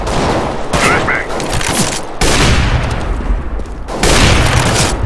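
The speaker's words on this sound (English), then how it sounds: "Deploying flashbang." A flashbang grenade goes off in Counter-Strike: Global Offensive, heard as loud, sharp bursts that strike about three times in quick succession and leave harsh, crackling noise between them.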